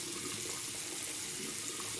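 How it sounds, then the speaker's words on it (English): Tap water runs steadily into a bathroom sink during a wet shave with bay rum shaving soap, a close, continuous hiss and splash with no breaks and no talking. "I've only got the water running just because I'm going back to it pretty frequently here."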